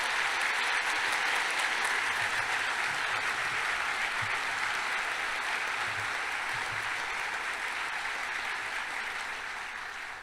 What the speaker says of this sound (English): please join me in another round of applause to welcome our new class of first-year medical students